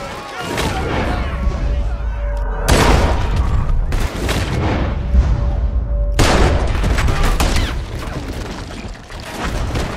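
Gunfire in the video game Red Dead Redemption 2, loud bursts and booming shots recurring through a busy action scene, with shouting voices and game sounds around them.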